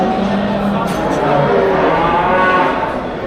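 A Simmental calf moos at a busy livestock market. A low, drawn-out bellow rises above a dense crowd murmur, with people talking around it.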